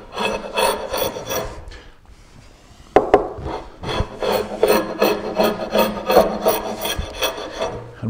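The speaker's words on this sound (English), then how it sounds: "I have a big glue scraper here." Heavy handmade glue scraper dragged along the glued seams of an oak tabletop, repeated harsh rasping strokes in quick rhythm, close and loud, with a brief quiet pause and a sharp knock partway through.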